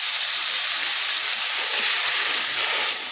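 Water poured into a sautéing pumpkin mixture with turmeric and salt sets off a loud, steady sizzling hiss that holds unbroken for about three seconds.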